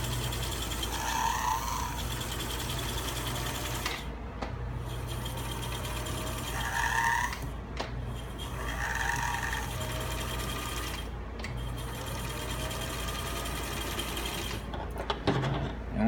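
A 1957 sewing machine motor runs steadily with the pedal held down during belt adjustment, a continuous mechanical whir broken by several brief dips in pitch and a few short clicks.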